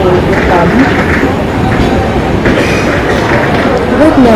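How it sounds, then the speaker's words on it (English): Trains pass a busy railway station on the route to Darjeeling, a loud continuous rumble of rolling cars with wheel clatter and faint squeals, steady throughout. "there are many trains which are passing by us"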